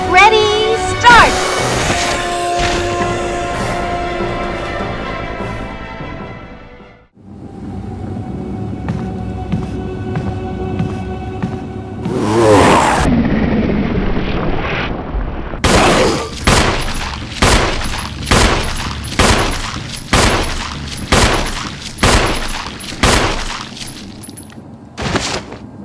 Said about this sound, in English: Grenade launcher! Let's try!